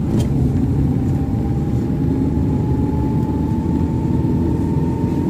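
A car engine pulls hard in low gear during a driving lesson, a loud steady droning rumble close inside the cabin with a faint rising whine, continuous throughout and without speech.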